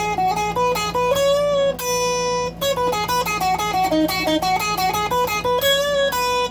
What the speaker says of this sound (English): this is the sound of the single coil, the Fender Noiseless